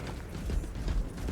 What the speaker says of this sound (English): Reloading.